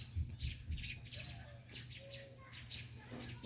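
A wild bird perched on a person gives soft, quick chirps and short tweets close by, faint against low rustling handling noise, with no talking.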